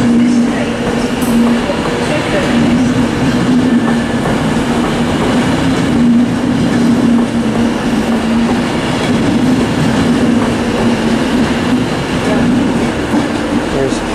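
Class 390 unit 390118 departs Carlisle for Glasgow Central, a loud continuous rail rumble with a steady low drone and faint clatter lasting throughout.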